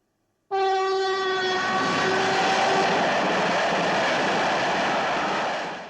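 A train from The Spy Who Loved Me bursts in after a moment of silence, its horn blaring over a loud, broad rumble of rolling wheels that keeps going steadily to the end.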